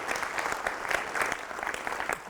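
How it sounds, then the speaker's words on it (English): Seminar attendees at a Four Seasons hotel event in Abu Dhabi clap for their partners, a brief burst of moderately loud applause from a room full of people, with distinct individual claps in the mix. "Big round of applause for your partner."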